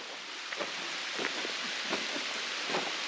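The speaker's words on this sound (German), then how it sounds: "Wir sind am Wasserfall." A steady broadband rush of a waterfall in Copper Canyon, Mexico, at the end of the rainy season, constant and enveloping, with a few faint knocks underneath and no talking.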